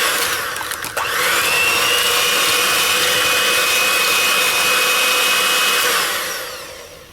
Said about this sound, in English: So we need to mix this until it's very well blended.